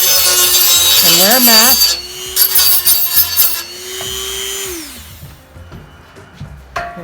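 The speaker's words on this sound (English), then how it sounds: "Just give it a nice little grind in there." A power tool grinds wood while a yoga chair is being made, giving a rough rasping, whirring noise in bursts close by. A person talks over and between the grinding.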